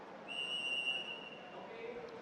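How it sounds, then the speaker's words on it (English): Referee's whistle at a robotics competition sounding one steady, shrill blast of about a second, thin and somewhat distant over arena crowd noise. "Upon the whistle, red has started moving towards the central arena"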